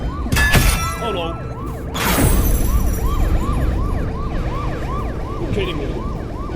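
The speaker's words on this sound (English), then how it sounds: "why do I hear the police?" A police siren wails in steady rising-and-falling cycles in the video game Murky Waters, loud and continuous after two sharp crashing impacts at the start.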